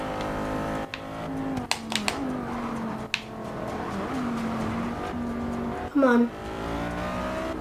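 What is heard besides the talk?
Audi R8 racing car engine and tires, video game Forza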